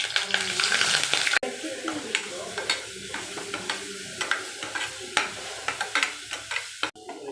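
Garlic and onion with mustard seeds fry in a pan, a steady close sizzle broken by repeated scraping stirs and soft crackles, with no talking.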